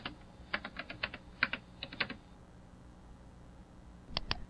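Keys on a computer keyboard are tapped quickly to enter a search term, a close run of light clicks lasting about two seconds, then a pause and two final taps.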